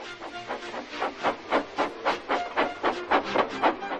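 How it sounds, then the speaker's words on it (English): Rhythmic, hissing chuffs of steam pulse about four times a second, loud and close, like a locomotive working slowly. "Gordon, with much noise and blowing of steam, got ready to back onto the train."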